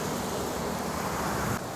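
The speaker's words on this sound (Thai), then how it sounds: "ท่ามกลางลมฝนเลยค่ะ" Steady, roaring wind buffets the microphone with a constant rushing noise, like a stormy gust sweeping past, with no voices, during a rainy morning windstorm on a Bangkok street.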